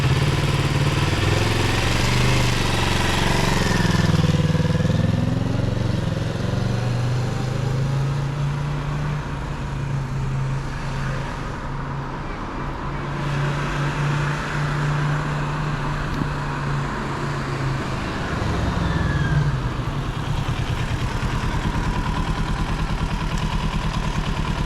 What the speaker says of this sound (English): Listen to the note of the engine